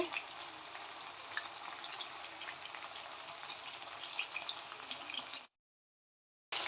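Chicken kondattam fries in a pan with a steady, close, broadband sizzle and crackle that runs unbroken for several seconds, then cuts off abruptly into silence before resuming briefly.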